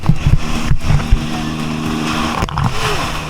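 A boat engine drones steadily at sea on a dive trip to Apo Reef, a loud continuous hum with a few brief bumps and splashes.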